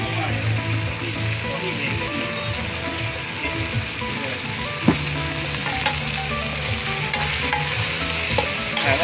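Field crab with American-style sauce and oyster sauce stir-fried in a wok, a steady close sizzle with scraping stirs and clinks of the utensil, and faint talk in the background.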